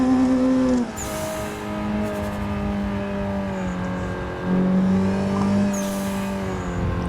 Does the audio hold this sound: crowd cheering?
no